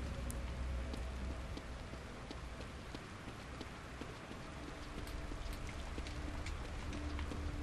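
Steady rain in the horror video game The Evil Within, a constant hiss of falling drops with faint tapping on surfaces and a low background rumble, evenly loud throughout with no voices.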